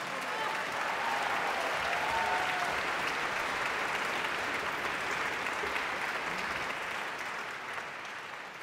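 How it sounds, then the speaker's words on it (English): A concert audience gives sustained, even applause after a violin concerto performance, the dense clapping holding steady before gradually thinning toward the end. "A big round of applause."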